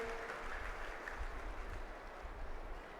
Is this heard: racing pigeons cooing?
no